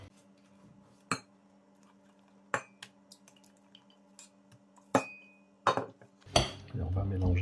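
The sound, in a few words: mixing whipped cream into strawberry purée in a bowl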